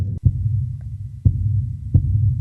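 A designed finger tap thickened with a low sine wave and reverb for a slow-motion scene: three soft, deep thumps at uneven intervals, each blooming into a warm, sustained low rumble that carries between the hits.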